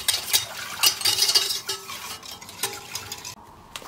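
A spoon scraping and clinking against a pot while lokum ingredients, including orange juice, are stirred together off the heat: irregular close taps and scrapes, loud at first and then quieter, with no talking.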